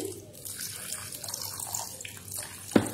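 Water poured and splashing onto tamarind pulp and seeds in a bowl while making chutney, a steady trickling stream with a brief sharper splash near the end, close and fairly quiet.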